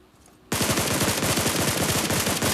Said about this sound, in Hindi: अब यार यहाँ पे मैंने उसको फायर किया